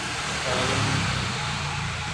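A Toyota Land Cruiser engine runs close by, a steady, even mid-pitched drone with no clear revving or pauses across the short stretch.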